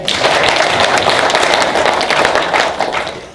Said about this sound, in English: A round of applause to yourself.